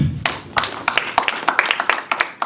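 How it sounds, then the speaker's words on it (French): A small audience claps for a speaker after a talk on Ivorian culture, with scattered, uneven handclaps that come and go rather than building into a full roar. "on va encore l'applaudir"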